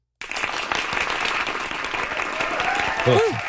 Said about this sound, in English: Little canned applause for Mac Maury.